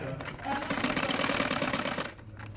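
Sewing machine running steadily while stitching a lace piping border onto a chiffon dupatta, a continuous whirring mechanical chatter that swells for a couple of seconds then slows, close by.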